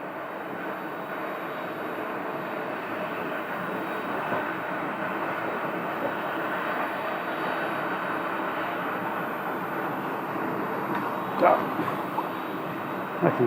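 A jet airliner at Scottsdale airport rolls on the runway, heard as a steady, fairly distant engine roar that holds level throughout, with a couple of brief knocks near the end.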